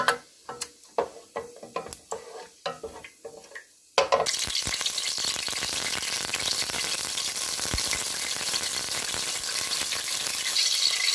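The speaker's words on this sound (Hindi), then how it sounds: "ऑयल जो है वो मैंने गरम होने के लिए रख दिया था और उसमें मैं अभी डालूंगी ज़ीरा" Cumin seeds dropped into hot oil burst into a loud, steady sizzle that fills the rest of the clip, after several seconds of sharp clinks and taps from a utensil in a quiet kitchen.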